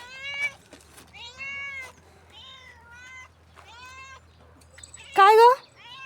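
A house cat meows repeatedly at close range, a series of short tonal cries with gaps between them, ending in one louder, sharper meow.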